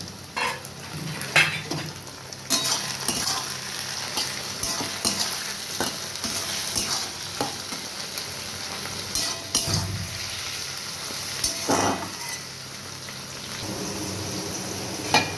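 Chopped tomatoes and onions fry in a pan for Bengali-style mutton curry: a continuous sizzle broken by frequent scraping and clinking strokes of a spatula stirring against the metal, close and moderately loud.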